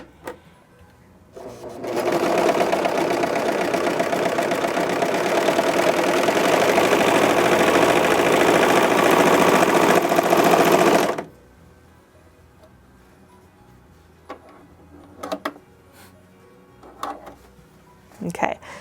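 Bernette B64 Airlock overlocker serging fabric, a fast, even mechanical whir that starts abruptly, runs steadily for about nine seconds and stops, followed by faint handling clicks.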